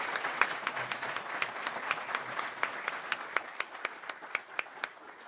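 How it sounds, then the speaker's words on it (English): A workshop audience applauds a housing panel: a modest, fairly sparse round of clapping with individual claps standing out in a quick rhythm, moderately distant and gradually thinning toward the end. "please give a round of applause to our fantastic panel here"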